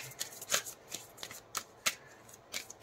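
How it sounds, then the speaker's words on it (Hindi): Tarot cards being shuffled and drawn, a run of crisp, quick riffling snaps and flicks close to the microphone, quiet and uneven in rhythm. "कार्ड्स भी निकाल लेते हैं"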